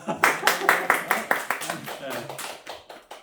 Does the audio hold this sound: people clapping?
yes